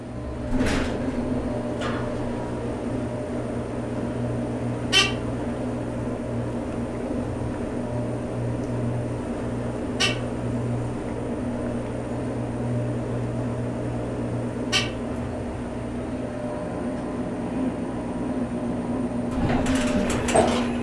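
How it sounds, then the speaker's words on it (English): A 1992 Dover hydraulic elevator motor runs with a steady, droning hum and low tonal whine throughout, with a few sharp clicks about every five seconds and a rise in mechanical noise near the end. "Listen to this motor."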